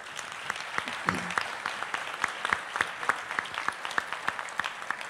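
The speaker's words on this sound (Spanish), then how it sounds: "un aplauso para ellos, por favor" Audience applause at a Colima municipal event, heard as crisp, evenly spaced claps in a loose steady rhythm, fairly close and moderately loud, with no talk over them.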